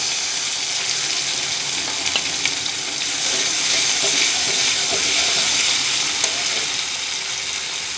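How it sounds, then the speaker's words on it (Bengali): Spice paste sizzles and fries in a pan with eggplant and dried fish for a chutney, a steady, fairly loud hiss that swells slightly partway through, with faint scattered pops and no talking. "এরপর এর মধ্যে দিয়ে দেব বাটা মশলা"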